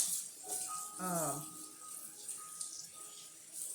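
Tap water runs into a kitchen sink to wash collard greens, a steady broadband hiss throughout, fairly close, with a brief rattle of handling near the start.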